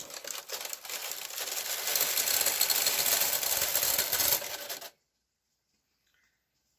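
A domestic knitting machine carriage is pushed across the needle bed with orange yarn, giving a continuous rattling, clattering slide that is loud and close for about five seconds and then stops abruptly into silence.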